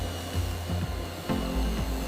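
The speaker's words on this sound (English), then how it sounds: "CNC grinders smooth every edge carefully" CNC grinders work along the edges of steel baking trays in a factory, making close, gritty scraping with repeated sliding whines that rise and fall in short passes.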